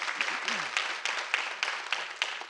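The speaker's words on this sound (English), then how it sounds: "please give these judges a round of applause for their presentations today" Applause from a small audience at a forum on specialty courts, thin and uneven clapping with separate claps standing out, moderately quiet.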